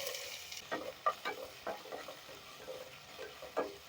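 Chopped onion frying in hot oil with cinnamon and cloves for duck curry, a steady sizzle broken by several distinct scrapes and clacks of stirring in the pan.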